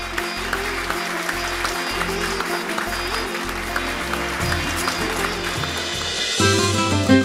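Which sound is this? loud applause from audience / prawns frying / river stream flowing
loud applause from audience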